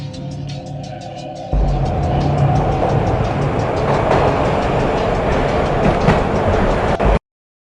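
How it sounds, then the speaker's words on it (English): A train ride in the video game Max Payne: a quieter rumble gives way to a loud, steady rattle and roar of railcars, with clanks and metallic squeals over the continuous drone. "This was my second train ride of the night."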